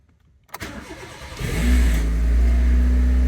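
A Honda Civic engine cranks after a brief quiet moment and catches, then settles into a loud, steady running rumble close by.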